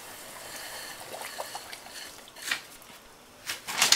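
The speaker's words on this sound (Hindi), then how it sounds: "चीनी ऐड कर लें और इसे अच्छी तरह हम मिक्स कर लेते हैं" Sugar being added to carrot kheer in a pot and mixed in, with quiet scraping and soft clinks of a spoon against the pot, growing into a few louder stirring strokes toward the end.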